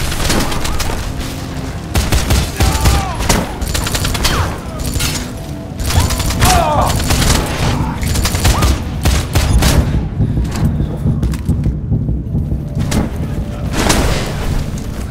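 Video game shootout in Wanted: Weapons of Fate, dense rapid gunfire and bursts of automatic fire with booming impacts, loud and close, nearly continuous before thinning toward the end.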